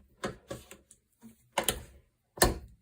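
A rifle bolt is worked by hand to pull out a jammed brass cartridge case, giving a few sharp metallic clacks and sliding rattles in separate bursts, close and fairly quiet, with brief pauses between strokes.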